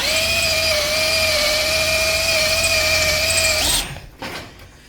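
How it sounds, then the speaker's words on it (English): A drill press whines at a steady high pitch while grinding into material, then cuts off abruptly, followed by a brief clatter. "Drill press is awesome."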